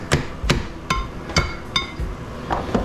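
A hammer strikes a 3 horsepower electric motor being scrapped for copper, delivering about seven sharp metallic blows at an irregular pace, close and loud with ringing clinks between them.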